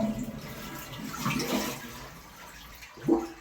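A toilet flushes in a house under repair that has a leak, a close, moderately loud rush of water that swells, eases and then gives a final gurgle.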